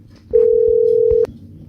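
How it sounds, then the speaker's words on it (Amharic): A phone call rings out on the line: a single steady ringback tone lasts about a second, close and clear, then cuts off to quiet background. "እንግዲህ እየጠራ ነው፣ እየደወልኩለት ነው።"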